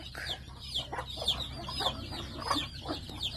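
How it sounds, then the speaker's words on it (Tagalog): Several chickens on a farm cluck in short, repeated bursts over a low steady background hum, fairly close and continuous throughout. "Ayan o, daming manok dito."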